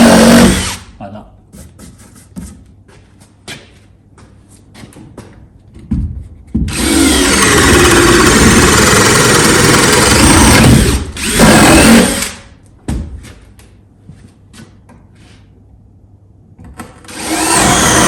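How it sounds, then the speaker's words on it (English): A power drill whirs loudly as its bit is pulled back through a hole bored in a timber stud of a garage partition wall, in several bursts of a few seconds each, separated by quieter stretches where someone talks. "what I tend to do is put the drill on and just pull it through again, and it'll clear all of this mess"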